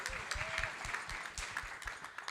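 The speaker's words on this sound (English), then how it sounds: "so give yourselves a round of applause." Steady applause from an audience at an outdoor summer mixer in San Francisco, a dense patter of many hands clapping at moderate distance, fairly quiet and even throughout with small bursts of sharper claps.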